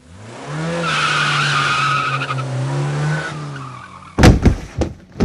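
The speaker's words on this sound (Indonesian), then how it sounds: "ada suara orang tertabrak motor" A long, loud motorbike tire screech with an engine whine builds and fades, followed by a few sharp crashing impacts as a person is hit.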